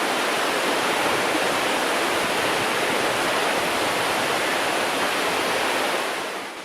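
South Sauk River rushing beneath an old rail bridge, a dense, steady roar of whitewater close by that holds evenly throughout and fades slightly at the end.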